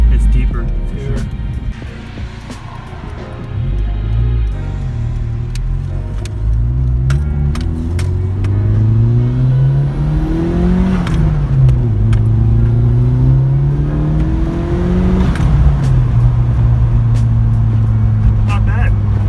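A Nissan Silvia with its muffler deleted revs hard up close, its deep engine note climbing and falling through several throttle blips while people talk nearby.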